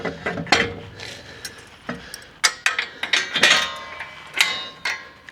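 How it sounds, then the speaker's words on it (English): Metal clanks, clicks and rattles as the ramp is pulled off the end of an Outfitr 2-bike e-bike hitch rack and fitted back on, a close, irregular run of sharp knocks and clinks with no talking. "Now we can remove a ramp here. Put it back on the end."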